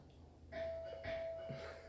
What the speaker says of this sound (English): You might hear my doorbell in the background there.